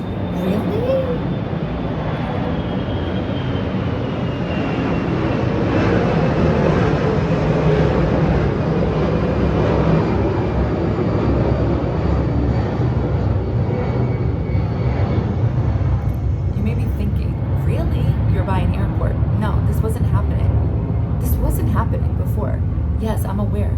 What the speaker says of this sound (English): I'm aware that the airplanes have been flying over it, not as frequent.